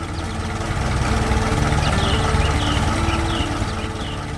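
A red Massey Ferguson tractor pulling a trailer keeps up a steady, droning engine rumble that swells slightly in the middle, with faint squeaks and rattles riding on top.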